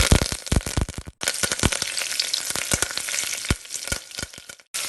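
Fennel seeds and curry leaves frying in hot oil, a loud close crackling sizzle with sharp popping bursts throughout, no voices.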